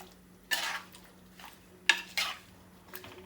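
A spoon stirring vegetable aviyal in a pot, producing a few short scraping and clattering bursts separated by quiet pauses, close by.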